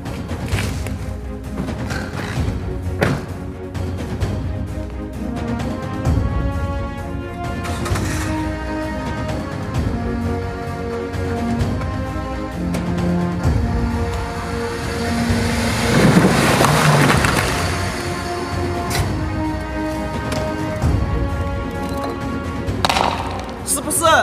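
Car in first gear easing forward so its dropped rear wheel climbs back up over a roadside curb, a low engine rumble and tyre scraping with a brief louder strain midway, under someone talking throughout.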